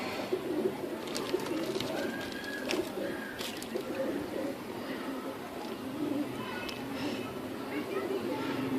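A pigeon coos softly at a steady pace, nearby, over a constant background hum and murmur.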